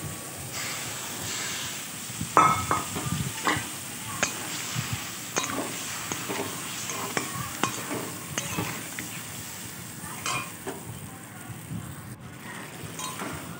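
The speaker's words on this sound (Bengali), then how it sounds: "আলুর সঙ্গে মশলাটা একটু কষলে পটলটাও আমি দিয়ে দেবো" Potatoes fry in spices in a pan for an aloo potol rasa, with a steady sizzle under repeated scraping stirs and the occasional clink of the spoon against the pan, close and moderately loud.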